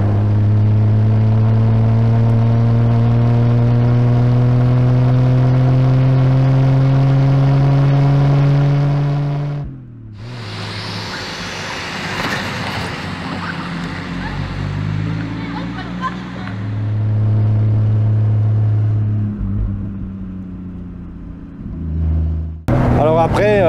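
A Triumph TR250 with a 2.5-litre engine pulling hard in fourth gear, its loud, steady engine drone rising in pitch, then a gear change and renewed revving, close up from inside the car.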